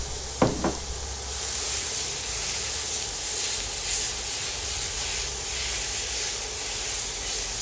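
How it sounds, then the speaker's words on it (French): Minced meat hisses and sizzles in an already hot frying pan, a continuous bright crackling spatter with a brief knock of a utensil near the start, close and steady. "Commençons d'abord par faire revenir notre viande hachée dans une poêle."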